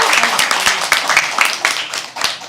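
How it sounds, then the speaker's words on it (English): A crowd applauds a poet at a live poetry open mic, with dense, sustained clapping that carries steadily through the moment, a few louder claps standing out and no talking over it. "I think another round of applause."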